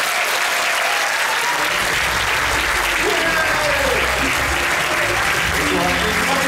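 Sustained audience applause fills the room at the opening ceremony of the Monaco Magic 2023 festival, a dense, steady wash of many hands clapping from start to finish, with a few voices faintly mixed in.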